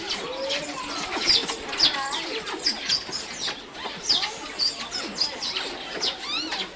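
Several children's voices squeak and chirp at once in high, fluttering calls, mimicking small birds and chicks in a noisy, overlapping chorus.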